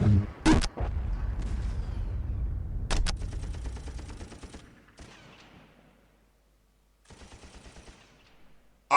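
Rapid gunfire and bursts of automatic weapons from a Warhammer 40,000: Dawn of War battle, loud and dense through the first half, then trailing off into quieter scattered shots with a short pause near the end.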